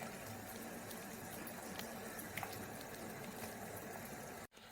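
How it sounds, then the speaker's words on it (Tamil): Water in a pan comes to a boil for cooking kozhukattai, a steady low bubbling hiss that continues evenly throughout before a brief dropout near the end. "நல்ல வானலில் நல்ல தண்ணி கொதிக்க வச்சிருக்கிறேன்"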